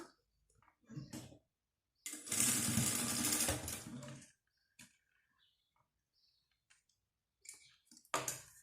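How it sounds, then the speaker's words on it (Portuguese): A sewing machine runs a short safety seam along the edge of a small fabric pharmacy pouch, one brief burst of stitching surrounded by quiet clicks and handling sounds. "eu vou passar uma costurinha de segurança aqui na beirinha"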